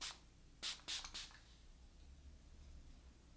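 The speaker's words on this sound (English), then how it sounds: "I'll just spray it in like this direction" Three quick sprays of elderflower and sage body mist from a spray bottle, close and soft, each a short hissing burst in a quiet room.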